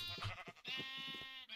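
Baby black-wool sheep in Minecraft with the FTB Interactions modpack bleat a few times, close and clear, in short wavering cries over a steady low game hum.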